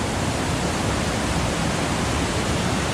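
Tat Noi waterfall in Na Yung–Nam Som National Park, Udon Thani, gives a steady, loud broadband roar of rushing water with no pauses, alone and without voices.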